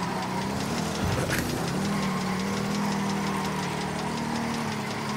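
A vehicle engine in the video game Ghost Recon Wildlands drones loudly and steadily throughout, rough and knocking as the vehicle drives cross-country, with a brief swell around a second in.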